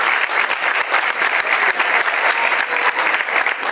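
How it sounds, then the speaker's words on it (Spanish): Audience applause at an award ceremony: a loud, dense, steady crowd of clapping hands filling the room, with no talk heard over it. "vamos a darle un fuerte aplauso a María Jacqueline Jiménez Longa."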